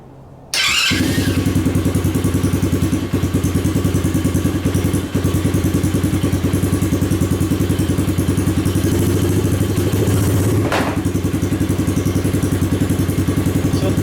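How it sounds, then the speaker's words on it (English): A TAO Cheetah ATV engine starts and settles into a loud, steady rumbling idle close by, with a faint rattle and one brief rev partway through. "I'll just hold the brake, put it in the run position, and turn the key. Yeah, that's pretty loud."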